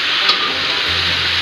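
Shrimp sizzling loudly in a pan as they are stirred, a bright, steady frying hiss close up with a brief utensil tap.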